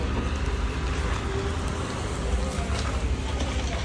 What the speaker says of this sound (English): Of course it chooses to rain when I have an appointment.